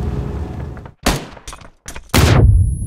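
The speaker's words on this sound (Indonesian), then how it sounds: "Kita lihat ledakan bomnya, bom granatnya." Grenade blasts in the mobile battle royale PUBG New State on ultra graphics: a run of sharp, loud bursts, several short booms separated by brief gaps, ending in a heavier sustained blast that trails off.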